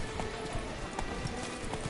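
Roach, a horse in the Witcher 3 video game, clip-clops at a walk, its hoofbeats even and moderately close over a quiet ambient background.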